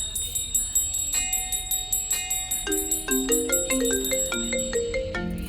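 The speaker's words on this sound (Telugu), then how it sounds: "wife calling. You got a call." A phone ringtone plays a repeating melodic chime pattern, loud and close, with a brief tinkling intro before the tune settles into its looping phrase.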